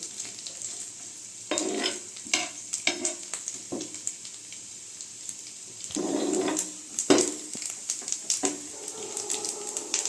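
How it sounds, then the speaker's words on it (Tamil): Grated coconut sautéing in ghee until golden for Karthigai Deepam appam, with a steady sizzle under repeated bursts of stirring and scraping in the pan, close and fairly loud. "இப்போ தேங்காய் வந்து நல்லா பொன்னிறமாக வதங்கி வந்துருச்சு"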